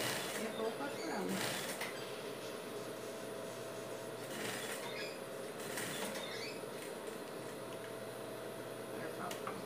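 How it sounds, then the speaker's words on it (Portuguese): A sewing machine stitching the sleeve onto a dog shirt runs in a steady close mechanical whir with faint creaks and clicks, under near-constant talk. "Vou colocando e vou costurando."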